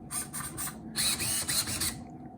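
Servos in a 1/5 scale Primal RC Raminator monster truck whir and buzz in quick repeated bursts, close by with a steady low hum underneath.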